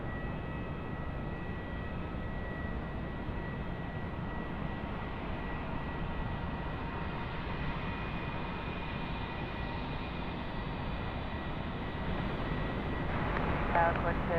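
A Cathay Pacific airliner takes off at Sydney Airport at night, its engines a steady, distant roar that holds evenly throughout and swells slightly near the end, with faint radio chatter underneath.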